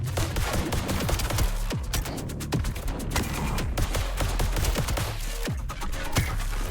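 Continuous gunfire in the roguelite FPS VOID/BREAKER, with dense rapid shots cracking over a loud, busy background of combat. The fire keeps going without a break.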